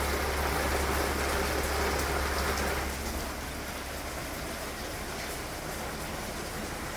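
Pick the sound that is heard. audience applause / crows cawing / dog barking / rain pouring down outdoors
rain pouring down outdoors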